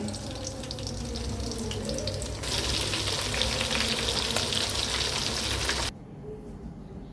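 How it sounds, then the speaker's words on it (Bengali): Hilsa fish fries in pure mustard oil, a dense, steady sizzle that grows louder partway through, with running-water and faint stirring sounds mixed in nearby before it drops back to a quieter hiss, with no talking. "খাঁটি সরিষার তেল দিয়ে ইলিশ মাছ ভাজা হচ্ছে।"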